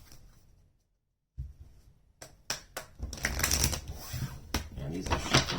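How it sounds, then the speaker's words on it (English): Tarot cards being shuffled by hand after a brief pause, a burst of quick riffling clicks and flutters building into a dense, close rustle. "Let's do one more shuffle."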